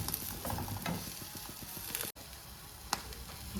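Eggs frying in a pan for an onion omelette, a steady close crackling sizzle with scraping and stirring clicks, a brief dropout midway, no voices.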